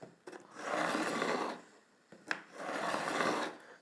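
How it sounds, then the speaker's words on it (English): A fret beveling file rasps along the fret ends of a pine guitar neck in two long strokes, each a steady scraping rub lasting over a second, close and fairly quiet with a brief pause between. "I'm using a fret and beveling tool. So it's basically just a file that goes on an edge."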